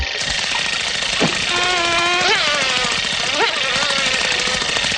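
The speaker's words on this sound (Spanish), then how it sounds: "Moscas, mis favoritas." Cartoon flies buzz in a steady, loud drone across the whole scene, with gliding whine-like pitch swoops rising and falling over a busy soundtrack.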